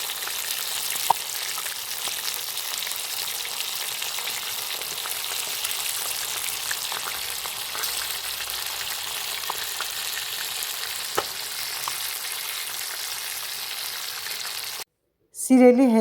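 Fish frying in a pan in a greenhouse, a steady close hiss and sizzle with occasional pops, cut off by a short silence near the end.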